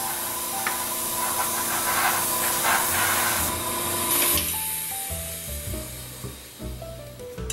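An air compressor running for an airbrush while a mask is painted gives a steady loud hiss and mechanical drone, then cuts out and leaves quieter clicks and knocks near the end.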